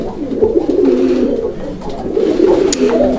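A male domestic pigeon coos in repeated throaty, rolling bursts close by, with short pauses between the calls.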